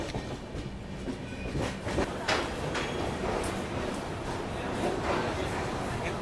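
A train rolls into Dimapur railway station in Nagaland, with rhythmic wheel clatter and rumbling carriages close by and steady, continuous noise throughout.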